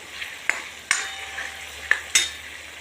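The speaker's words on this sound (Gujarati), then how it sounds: "એકદમ ધીમા સાથે શાકભાજી શેકાય છે" Pav bhaji masala and vegetables roast in ghee and butter on low heat under a soft steady sizzle, while a metal spoon clinks and scrapes against the pan four times at an uneven pace.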